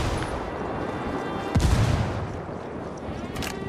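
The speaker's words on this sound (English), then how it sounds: "Opening fire on these fuckers" Gunfire and booming shots in the video game Ghost Recon Wildlands, set in Bolivia, with a loud close blast midway over a dense rumbling battle background.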